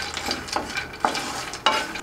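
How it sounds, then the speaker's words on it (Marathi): Dry fruits and makhana (fox nuts) dry-roasting in a pan over medium heat, stirred with a spatula: soft scraping strokes and light rattling of nuts, several distinct clicks and taps at uneven intervals, close and fairly quiet, no talking. "आता आपण हे सर्व ड्रायफ्रूट मीडियम गॅसवरती 3 ते 4 मिनिटं भाजून घेऊयात।"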